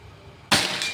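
A single sharp, loud shot from a Predator Pajero Gen 6 air rifle during an accuracy test cracks out midway, breaking a quiet background and trailing off in a brief bright ring.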